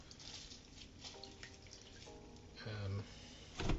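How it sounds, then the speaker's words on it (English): Salted vegetables for kimchi are squeezed by hand, giving quiet wet squishing and dripping with a couple of short splashy bursts of water near the end. "squeezing the excess water out"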